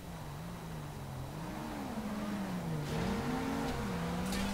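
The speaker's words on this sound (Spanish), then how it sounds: "Señor, menudo rebufo hace su coche" A video game car engine drones and revs continuously as the car speeds past, its pitch wavering up and down and swelling slightly toward the end, with no one talking.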